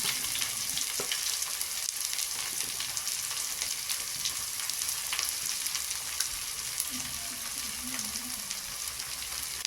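Chopped onions frying with spices in a pan, an even, moderately quiet crackling sizzle with occasional stirring clicks, steady throughout.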